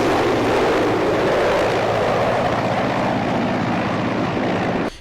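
A helicopter carrying a head of state lands at an aerodrome in Chad, giving a loud, continuous rotor and engine roar that holds steady and then cuts off abruptly at the end.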